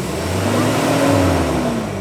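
Car engine revving hard while a wheel spins during an attempt to drive forward out of a stuck spot, a loud, continuous, close engine roar with a slowly rising pitch.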